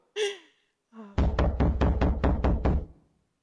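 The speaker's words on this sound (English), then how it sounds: "who's that knocking at our door?" A rapid series of about eight heavy, loud knocks on a door, close and booming, preceded by brief vocal sounds.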